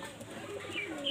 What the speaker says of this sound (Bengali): এই উপরে একটা পায়রা বসে রয়েছে